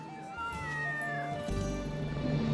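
Small kitty meowing in a library, a few drawn-out, rising and falling mews that start faint and grow clearer, followed by a low murmur of background sound.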